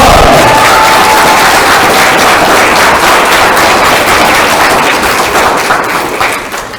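A large crowd at a fifth-grade promotion ceremony gives loud, dense, sustained applause with some cheering, and it tapers off toward the end.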